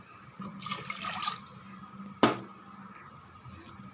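Water pours briefly into a pot of rice with a gurgling splash, followed by a sharp clink of a cup, close and fairly quiet.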